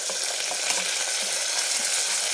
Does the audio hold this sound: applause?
no